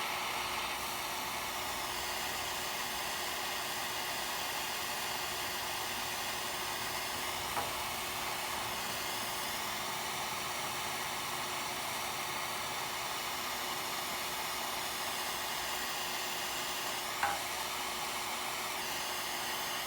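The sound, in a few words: heating and dabbing repair material on a radiator hole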